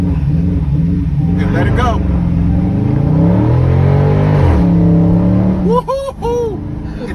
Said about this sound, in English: Activate launch control. Press brake. Quickly apply throttle.